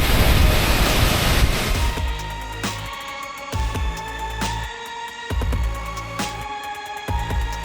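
Loud, steady roar of the Pliva waterfall in Bosnia and Herzegovina, a dense wash of falling water that continues throughout, with rhythmic pulsing bursts cutting through the spray in the second half.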